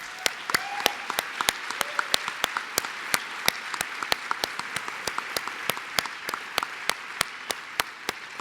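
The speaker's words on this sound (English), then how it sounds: "Please give a round of applause for my team." A convention audience at an arts event applauds steadily, a dense, even wash of many hands clapping in a large hall with no one speaking.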